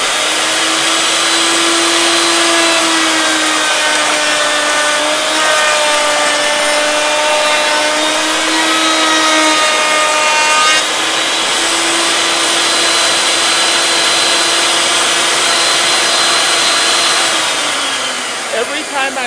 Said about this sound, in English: I'm going to go ahead and energize our router by flipping our switch up here.